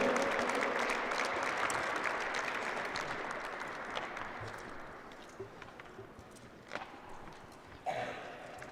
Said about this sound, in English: give a round of applause to those that were eliminated